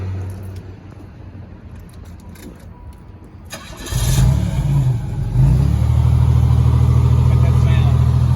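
A 1990 Pontiac Grand Prix STE engine cranks from cold and catches, then settles into a loud, steady idle close by, after a stretch of quieter background noise.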